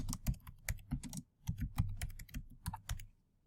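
Rapid keystrokes on a computer keyboard, close and clear, clattering in uneven bursts with a short pause in the middle, while entering text into Office 2016 software.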